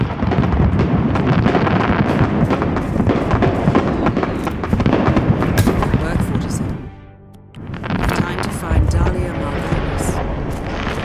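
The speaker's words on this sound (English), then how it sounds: "He wants to trigger the fireworks himself." Fireworks explode in the Paris level of the Hitman video game, a dense continuous crackle and booming barrage with a brief lull near the end, loud and close, mixed with game sound and voices.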